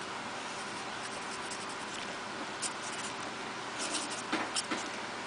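Chisel-tip pen scratching lettering onto a watercolor crayon background, soft close scratchy strokes over a steady background hiss, with a few firmer taps near the end.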